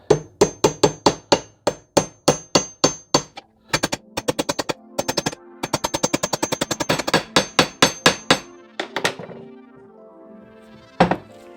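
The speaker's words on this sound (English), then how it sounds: "And now I can tap these in." A hammer taps U-joint caps into place on a 2000 Jeep Cherokee XJ: sharp, ringing metallic blows in quick rhythmic runs, with short pauses between series and a few isolated final strikes, close and loud.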